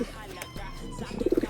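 Pigeons make short soft coos close by, rising into a quick pulsing run of coos at the end, alongside brief rustling.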